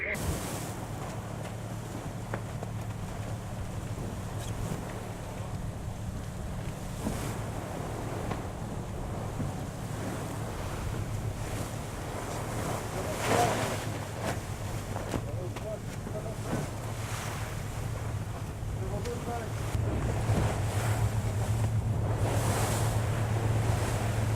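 Wind buffets the microphone over the steady wash of waves against a racing sailboat under spinnaker, a continuous rushing sound with faint voices in the background.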